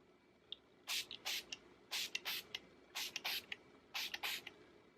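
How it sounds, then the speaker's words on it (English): Makeup setting spray misted from a pump bottle in a quiet room: about a dozen short, hissing spritzes in clustered pairs and triples, close and crisp with no talk. "I just use the setting spray, which is really good."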